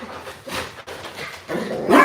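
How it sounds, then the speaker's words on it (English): A pet dog barks excitedly indoors in a few quick, loud bursts mixed with yips and whimpers, fairly close by. "my dog is going nutso-wutso"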